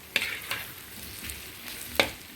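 Onions and chili powder fry in a pan for an egg scramble, giving a soft, steady sizzle broken by a few sharp stirring scrapes, close and fairly quiet, with no talking.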